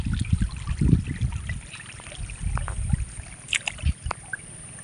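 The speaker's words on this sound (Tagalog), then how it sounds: "pinadrain natin ang tubig." Water trickles and gurgles steadily as a rice field is drained during land preparation, a close, continuous flowing sound broken by a few brief splashes and knocks.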